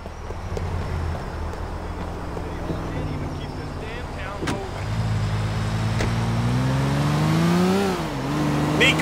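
In the video game GTA IV, a car engine idles, then revs and rises in pitch as the car pulls away, with a steady motor drone throughout and voices talking over it.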